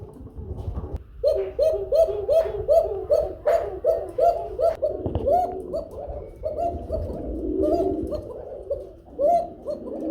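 A pair of Banshiraj fancy pigeons kept at a pigeon farm coo in a steady, rhythmic series of low, throaty notes close by, carrying on for several seconds with faint clicks and rustling behind them.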